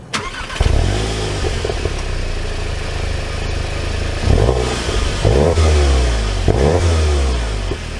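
A 2024 VW GLI engine starting up close, then settling into an idle broken by several sharp revs that rise and fall in pitch.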